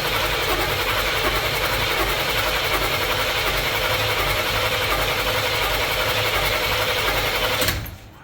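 A 1979 Chevy G20 van engine runs at a steady, rough idle with a dense mechanical clatter, then shuts off abruptly near the end.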